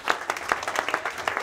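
Brief applause at a golf tournament prize-giving, a quick run of distinct claps standing out over a soft crowd patter.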